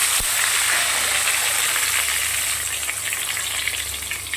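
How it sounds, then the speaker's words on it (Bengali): Thin strips of eggplant fry in hot oil in a wok, giving a steady, dense, close sizzle that holds evenly throughout with no talking over it. "লম্বা লম্বা সরু সরু করে বেগুন কেটে নিই, বেগুনগুলোকে ভেজে নিই"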